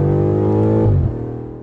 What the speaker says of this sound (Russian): Сбрасываем передачу в туннеле.